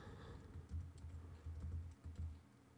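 Quiet, close keystrokes on a computer keyboard come in a quick irregular patter as a spreadsheet formula is typed, with soft low hum underneath and no one speaking.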